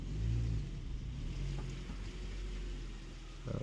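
A 2015 Honda Civic Si with a newly replaced clutch and light flywheel drives in first gear, its engine a steady low drone that swells slightly at the start and end, heard alone.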